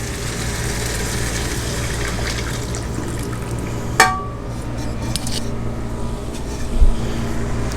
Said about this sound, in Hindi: अब हम इसमें हमारा जो हमारे बॉयल किए हुए मटन का यखनी था वो इसमें डालेंगे।